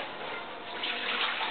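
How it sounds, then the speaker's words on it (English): Water pours steadily into a pot for making sugar: a short, close, even hiss of running liquid with no talking. "Just a cupful of water or so."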